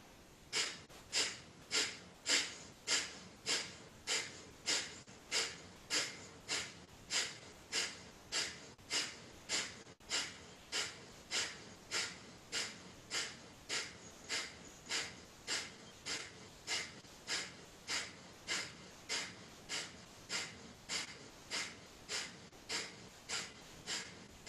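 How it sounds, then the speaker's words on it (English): Breath of fire yoga breathing: rapid, forceful nasal exhales driven by belly pulls, about one and a half per second in a steady rhythm, close and clear for over twenty seconds with no talking. "the breath of fire is a rapid exhale coordinated with that belly pull"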